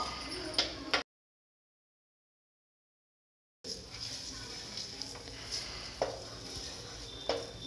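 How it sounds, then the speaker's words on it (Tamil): Four boiled eggs sautéing with turmeric and chilli powder in a pan for egg biryani: a soft, steady sizzle with spoon scrapes and stirring clatter, cut by a brief silent gap partway through. "இதில் இந்த 4 முட்டையும் போட்டு நல்லா வணக்கி எடுத்துருங்க"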